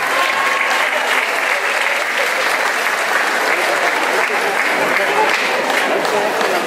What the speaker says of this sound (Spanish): las cuales les pido recibirlas con un muy fuerte aplauso